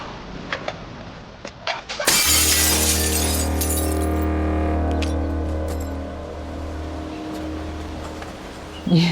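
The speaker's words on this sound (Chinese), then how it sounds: "有气泡就要摔了？" A handmade glass piece with seaweed detail, flawed by an air bubble, is hurled down and shatters in one sharp crash, followed by a long ringing rumble and scattered tinkles as fragments settle.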